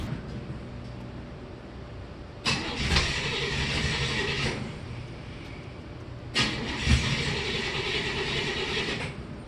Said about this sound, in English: Currently, it takes forever to get this car started.